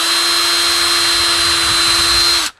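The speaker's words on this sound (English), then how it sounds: "I'm going to go ahead and drill these holes now" A power drill boring pilot holes into a sewer pipe drum shell, a steady high-pitched whine held for about two and a half seconds, then cut off abruptly.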